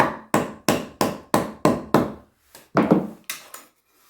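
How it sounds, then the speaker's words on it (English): A Condor Pandur fighting knife is hammered into a piece of wood to split it: about ten sharp, loud strikes, evenly spaced at first, then a pause and a few louder, messier blows as the wood gives way. "you can't hammer it into this piece of wood here and split it"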